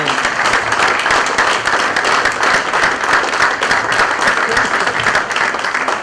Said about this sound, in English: So round of applause, please, for Dave